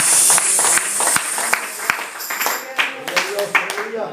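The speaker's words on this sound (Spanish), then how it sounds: "Démosle una ofrenda de palmas a Dios." A church congregation claps as an offering to God, a burst of uneven hand claps with voices mixed through it, fairly loud and close.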